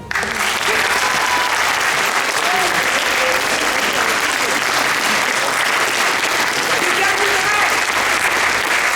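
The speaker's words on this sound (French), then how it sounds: "Applaudissez-les." Loud, sustained applause from a theatre audience after a performance of Tardieu's La Comédie du Langage, a dense, even roar of clapping that starts abruptly and fills the whole stretch, with faint voices mixed in.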